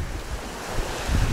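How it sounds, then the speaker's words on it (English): Strong wind buffets the microphone at a seashore on a Philippine island, with surf washing underneath as a steady, loud roar throughout. "Very windy"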